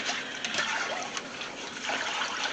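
Hot water running from a tap into a kitchen sink full of dishes, a steady close splashing gush that continues unbroken with no talking.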